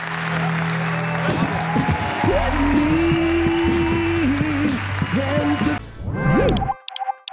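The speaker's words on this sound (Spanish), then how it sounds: "un aplauso para Silvia Blin y Andreu Buenafuente" A studio audience on the Spanish late-night talk show La Resistencia applauds loudly and steadily over upbeat band music, then cuts off abruptly near the end.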